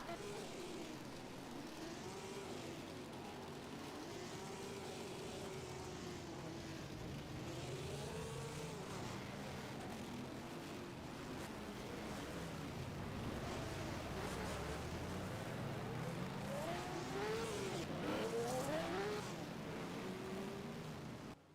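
Vintage race car engines, Porsche or Ferrari among them, warming up before a 1971 CanAm formation lap at Road Atlanta, droning and rising through higher revs in wavering sweeps, steady and fairly loud amid crowd and commentary noise.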